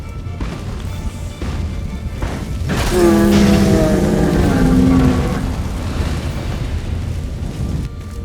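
A golem bursts apart in The Witcher 3 with a swelling fiery boom that peaks and rumbles for a couple of seconds before fading back into steady background noise.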